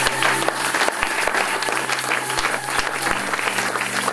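Church congregation applauding together at a sermon by Pastor Hugues A. Tshisungu, a steady, dense wash of clapping from many hands throughout, no voices standing out.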